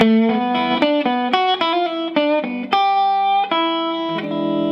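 A blues guitar lick in E, played in open position: a steady stream of picked and bent notes with a clean-to-slightly-driven tone, close and loud, ending on a held note, with no talking over it.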